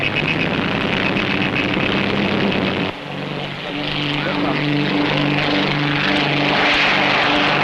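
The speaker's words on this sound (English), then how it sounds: "Jim and Amy Morrison, flying their Comet Black Magic, are the first to leave." A Comet propeller racing aircraft roars loudly and steadily as it takes off at the start of an air race, its engine drone droning throughout while a voice talks over it.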